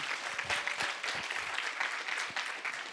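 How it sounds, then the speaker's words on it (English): An audience applauds at a political organizing talk, filling the whole stretch with dense, continuous clapping of moderate loudness and no voices on top. "Let's give another round of applause to Nancy for incredible leadership"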